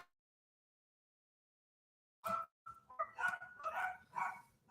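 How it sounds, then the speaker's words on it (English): Several dogs bark in a quick run of sharp yips and woofs after a stretch of silence, fairly close but fading in and out behind the room. "Excuse the dogs and whatnot in the background."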